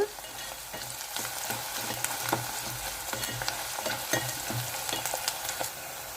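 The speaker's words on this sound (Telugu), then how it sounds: "ఎర్రగా వేగిపోవాలి ఉల్లిపాయలు" Sliced onions sizzle steadily in a hot pan for a spiny gourd mutton curry, a continuous frying hiss with intermittent scraping stirs, close and moderately loud with no voices.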